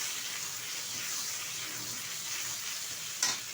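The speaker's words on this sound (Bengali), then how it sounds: "আদাটা একটু নেড়ে চেড়ে নেব" Ginger and turmeric powder being stirred as they fry in a pan: a soft, even sizzle runs throughout, with one brief scrape of the spoon near the end.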